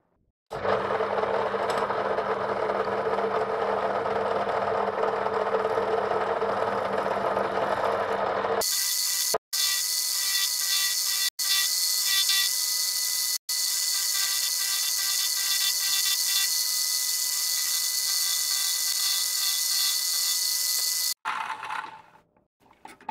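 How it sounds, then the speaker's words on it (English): A homemade cutter works through thin helmet material, first as a dense, low-heavy grind, then as a steady high-pitched mechanical ratcheting whir with a few abrupt cuts, loud and close, with no speech. "my homemade cutter is not that sharp, and because the material here is so thin, the cutter, instead of cutting it, it's pushing it away"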